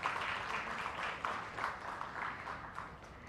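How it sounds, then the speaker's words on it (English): An audience gives a round of applause to welcome a speaker at a clinical laboratory session, with steady, moderately faint clapping from many hands throughout. "A huge round of applause for Dr. Abha."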